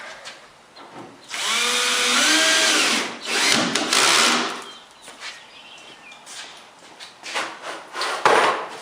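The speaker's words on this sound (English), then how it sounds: "Use 1 1/4" drywall screws to screw these down." Power drill driving 1 1/4 inch drywall screws into wood on a landsailing wing build, a loud whirring burst rising in pitch, then several shorter bursts and clicks nearby, with no talking.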